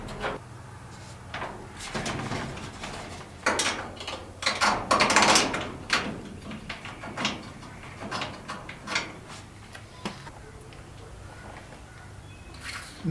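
A shed door slides along a 3D printed guide, giving a series of scraping, clattering bursts and rattles. It is loudest in the middle, then grows sparser and quieter.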